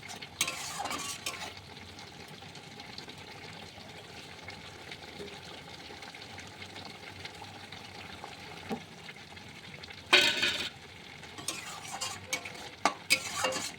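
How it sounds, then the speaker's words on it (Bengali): Spices for a mustard-poppy seed parshe fish curry being stirred in a pan, with a steady low sizzle and occasional louder scraping bursts of a utensil against the pan near the end. "এবার ভালো করে নেড়ে চেড়ে ভালো করে ফুটে উঠলে মশলা ধোয়া জলটা দিয়ে দেবো"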